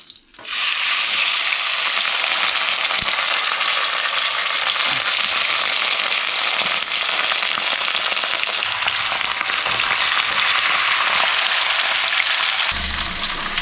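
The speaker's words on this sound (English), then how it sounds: "It's still frying itself." A big batch of meat fries in a pan with a loud, continuous sizzle that holds steady almost throughout, broken only by faint stirring clatter.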